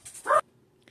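A dog in a home lets out a single short bark or yip, sharp and close, followed by near silence.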